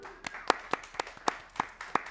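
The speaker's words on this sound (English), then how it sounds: "That's worth clapping about." Light, scattered clapping from a small studio audience at a radio show taping, a handful of sharp, separate claps spaced out over about two seconds.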